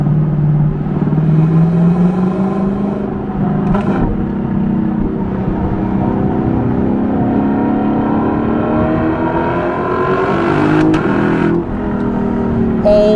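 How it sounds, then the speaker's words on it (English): A Lexus LC500 V8 with 471 horsepower sends out a loud, deep exhaust rumble that rises and falls through revs, heard close and alone without talk. "the exhaust note of this car is, it has got to be one of the top 3 sounding V8 exhaust notes that you can buy."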